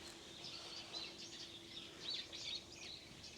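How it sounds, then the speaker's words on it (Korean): Birds chirp and twitter faintly in the distance on a wooded hillside with bamboo in rural Korea, scattered high calls over a quiet outdoor background with a steady low hum. "아주 뒤 산에서 새소리가 엄청나게 들리는데요"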